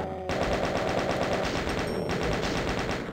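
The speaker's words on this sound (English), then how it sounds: "Let's use some chain gun." Chaingun firing in the video game Voxel Doom 2, a rapid, loud, continuous stream of shots that starts abruptly and keeps a steady rhythm throughout, with no talking.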